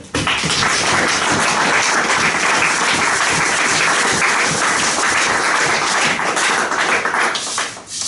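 Church congregation applauding the Lord, dense sustained clapping from many hands filling the room, loud and continuous throughout, tapering slightly at the very end.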